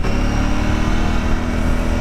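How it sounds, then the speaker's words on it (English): A 2026 Aprilia Tuareg motorcycle engine runs steadily at close range, a loud continuous mid-range drone with a slight throttle rise, heard on its own without talk. "Oh, it is a nice sounding bike."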